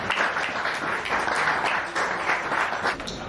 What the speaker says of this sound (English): can we give a round of applause for Dante